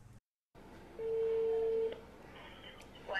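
A telephone call is placed from a Chinese dating reality show: a steady, clear ringback tone sounds for about a second after a brief dropout, over faint room background.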